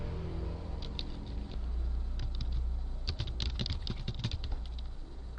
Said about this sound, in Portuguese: Eu posso também digitar uma palavra para substituir a que eu localizar.